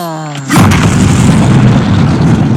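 After a brief tonal hum, a massive explosion in The Batman (2022) erupts suddenly and stays loud, a thick roaring boom that rumbles on for seconds.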